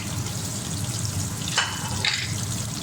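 Onion drops into a pan of oil for aloo gosht and fries with a continuous close sizzle, rising in two quick crackling bursts near the end.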